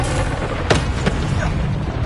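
An Incendio fire spell blasts during a Hogwarts Legacy fight, sharp booming impacts around the midpoint over a loud, rumbling battle din with a second softer hit after.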